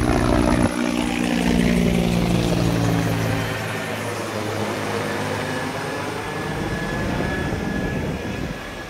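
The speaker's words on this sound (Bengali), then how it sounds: "হেলিকপ্টার যাচ্ছে।" A helicopter passes overhead in Mumbai, its loud rotor thrum and engine whine filling the whole stretch with a pulsing beat that shifts in pitch as it moves and slowly fades toward the end.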